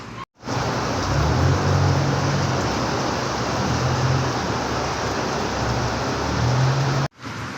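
Steady rain falls on a road, a dense even hiss that fills nearly the whole stretch, with a low rumble underneath, ending in a brief cut.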